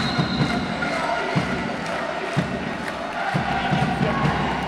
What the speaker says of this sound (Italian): quelli che sentite sono i tifosi senoresi